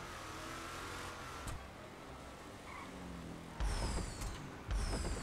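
Trophy truck in a GTA V Online race, its engine droning steadily at a distance before two louder revving surges near the end, with faint scattered game effects underneath and no talking.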